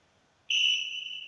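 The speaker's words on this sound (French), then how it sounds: "l'arbitre vient de siffler le coup d'envoi" A referee's whistle blows the kickoff of an animated football match, one sharp, shrill sustained blast that starts abruptly and holds steady for most of a second, loud and alone.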